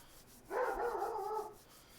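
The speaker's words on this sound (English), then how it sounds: "And the doggo's barking." A single drawn-out dog bark or howl, fairly faint and a little distant, set against quiet background noise.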